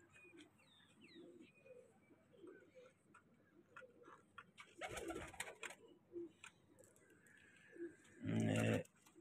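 Racing pigeons at a one-day flying cup in Haripur give soft, faint coos and calls against a quiet outdoor background, broken by a couple of brief louder bursts of noise.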